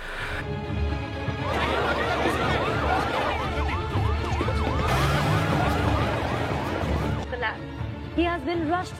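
An ambulance siren at a running race wails in repeated rising and falling sweeps for several seconds, fairly close, over voices and crowd noise, then cuts off.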